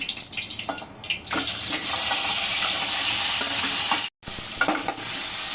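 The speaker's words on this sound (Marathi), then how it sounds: "त्याच्यानंतर लगेचच आता हे चिकन मी घालणार आहे।" After a quieter start, chicken drops into hot oil and a loud, close, steady sizzle takes over, broken by a brief silent gap near the end.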